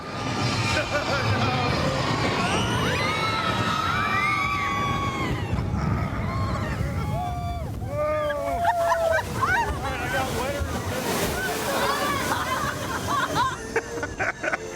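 A water ride boat rushes and splashes through water, with constant roaring spray and wind buffeting the microphone. Riders shout and scream throughout.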